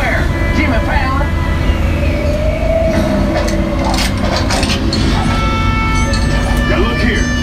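Universal Studios tour tram rolling along with a steady rumbling, whirring drone throughout, loud and close, while people talk over it.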